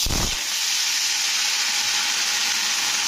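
Bottle gourd greens dropped into hot oil in a kadai, a sudden burst of loud sizzling that settles into a steady, bright hiss.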